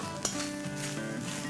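Grated coconut roasts in an iron pan for a bitter gourd chutney, giving a steady close sizzle with a light clink of a utensil against the pan near the start.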